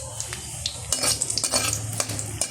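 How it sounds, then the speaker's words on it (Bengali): Garlic frying in a pan for a mutton dish, with metal spoon scrapes and clinks over a steady low sizzle, busier stirring and clatter from about one second on. "রসুনটা ভেজে নিচ্ছি ভালোভাবে"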